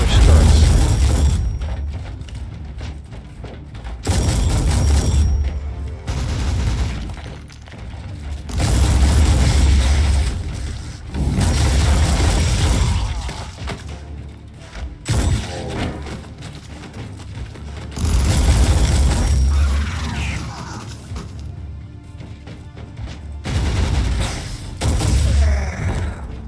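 Automated turrets fire in the Warhammer 40K Inquisitor video game, bursts of heavy rapid gunfire and booms recurring in waves with short pauses between.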